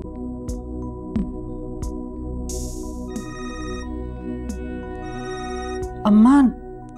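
A telephone rings indoors in a family home, its repeated electronic tone carrying through the scene under steady voices and background sound.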